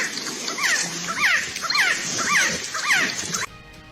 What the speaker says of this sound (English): The echo you're hearing sounds exactly like the call of a quetzal bird.